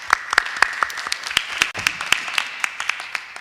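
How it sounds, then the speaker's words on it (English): Audience at a budget listening session held in a high school claps in a steady, moderately sized round of applause, sharp individual claps standing out over a continuous wash. "Give them a round of applause."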